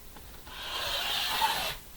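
A rotary blade rolls across fabric on a cutting mat while a quilt binding strip 2.5 inches wide is cut, giving one smooth, close, rising hiss-like rasp lasting just over a second.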